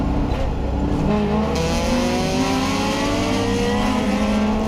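An E30 BMW race car at the start of a race at Atlantic Motorsports Park, its engine revving hard and climbing through the gears. The engine is loud and close, with a rising harmonic whine and a steady roar throughout.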